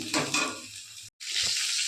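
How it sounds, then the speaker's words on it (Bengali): An egg frying with a little turmeric in a hot oiled kadai gives a short, close sizzle that fades, then after a brief cut the frying hiss returns steadily. "ডিমটাও ভেজে নেবো সামান্য হলুদ দিয়ে।"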